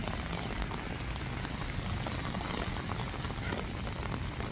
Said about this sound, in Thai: ฝนมันตกมันตกทุกคน